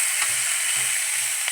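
Neem flowers frying in a pan, a bright, constant sizzle with a few soft low stirring knocks underneath.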